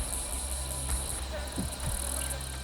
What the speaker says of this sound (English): After dark, male cicadas call to females,